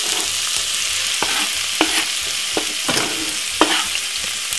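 Vegetables fry in oil in a pan on a stovetop, a loud continuous sizzle broken by several sharp clacks of a utensil stirring and scraping the pan.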